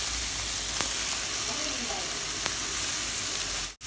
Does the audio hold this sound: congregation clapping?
no